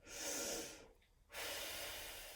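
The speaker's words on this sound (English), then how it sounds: "So you breathe in, and as you breathe out," Deep breaths during a shoulder stretch warm-up, heard close and loud: a long breathy exhale, a brief pause, then another sustained airy breath, with no speech.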